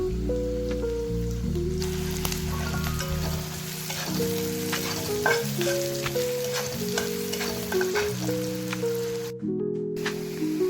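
Two small chopped onions fry in two ladles of oil, giving a steady, close sizzle with occasional stirring, while a tonal melody plays continuously underneath.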